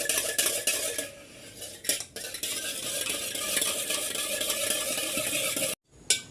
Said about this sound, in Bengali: এই যে ভালো করে এখন মিশিয়ে নেব।